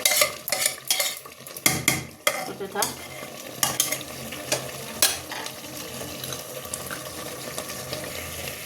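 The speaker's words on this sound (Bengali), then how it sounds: "আবার একটু নাড়াচাড়া করে দিচ্ছি" Mutton curry with fried potatoes being stirred and fried in a wok, with a ladle scraping and clattering in quick bursts over a steady sizzle that fades to a softer bubbling hiss.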